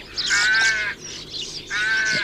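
A rook calls nearby with two loud, harsh, drawn-out caws separated by a short pause, clear and close.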